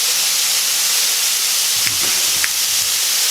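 Two pounds of ground beef, with peppers and onions, browning in a pan for chili give a steady loud sizzle and hiss throughout, with a couple of faint utensil scrapes.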